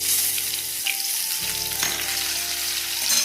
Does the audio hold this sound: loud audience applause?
no